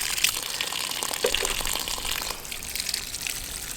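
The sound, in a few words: water flowing through a pond intake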